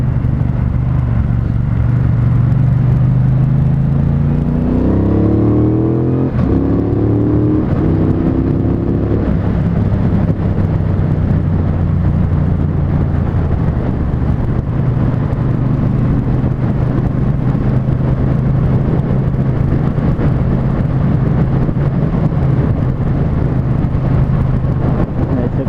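A Triumph Bonneville Speedmaster motorcycle rides through a dry bend in second gear, its engine rising in pitch through a short rev early on before settling into a loud, steady drone with wind rush throughout.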